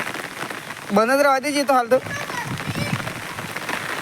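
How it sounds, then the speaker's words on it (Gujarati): Rain falling with strong wind on a farm, a steady diffuse patter throughout, while a person speaks briefly over it near the start. "ફૂલ પવન સાથે વરસાદ ચાલુ થઈ ગયો છે"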